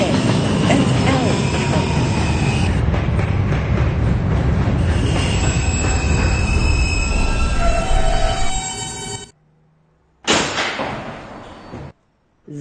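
R160B subway train on a B line run toward Herald Square, loud rumbling wheels with squealing tones and a rising whine, then a sudden cut to near silence before the noise resumes briefly.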